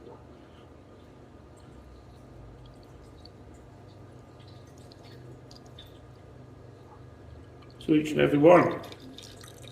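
Kolsch-style lager beer is poured in during racking, a short close burst of splashing liquid near the end after a quiet stretch of room tone and talk.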